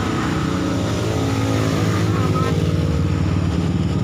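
A Yamaha Vixion motorcycle that struggles to start after getting caught in rain runs with a steady, close, rough engine drone, while a person talks over it.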